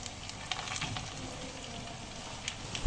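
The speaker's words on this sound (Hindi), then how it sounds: "ऑयल मेरा गर्म हो चुका है और अब मैं इसमें ऐड करने जा रही हूँ कबाब।" Chicken chapli kebabs fry in hot ghee over medium-low heat, a steady soft sizzle and crackle close by, with a few louder pops and a thump near the end.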